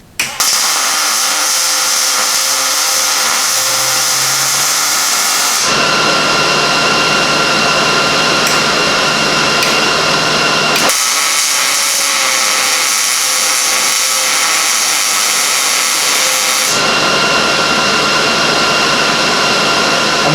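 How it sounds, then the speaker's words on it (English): A 110-volt MIG welder lays beads on 1/8-inch steel using 30-thousandths wire while reassembling a Model A hot rod shop truck frame, a loud continuous crackling hiss running in long stretches with short breaks. "welding this on 110 power"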